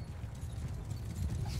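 A horse gallops in the video game Mount & Blade II: Bannerlord, with a quiet, steady rumble of hoofbeats over low battlefield ambience.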